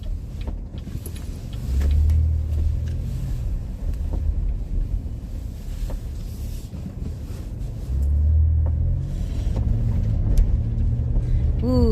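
A car rolls along on freshly fitted new tires, giving a steady low road rumble with wind buffeting the microphone and two brief swells as it accelerates, with no voices.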